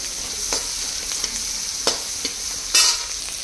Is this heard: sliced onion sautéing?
yes